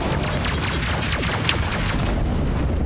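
Missile launch in the space combat game Rebel Galaxy Outlaw, a dense rumbling boom amid a steady wash of explosions and weapon fire, loud and continuous throughout.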